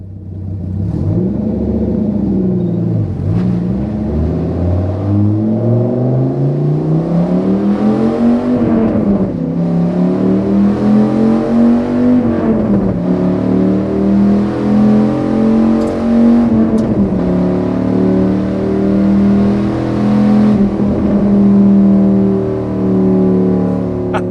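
A Dodge Viper SRT-10 with an 8.3-litre engine and six-speed manual pulls hard through the gears, its loud, close exhaust note rising in pitch, dropping at each shift, then climbing again several times.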